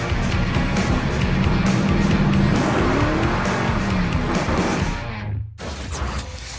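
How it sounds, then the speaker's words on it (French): A convertible cruising with its top down on a warm day, steady engine drone and rushing wind noise filling the air continuously, briefly cut by a short dropout near the end before resuming. "on va aller se promener en décapotant"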